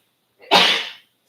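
A single sneeze, loud and close, a brief breathy intake rising into a sharp burst that trails off within about half a second, followed by quiet.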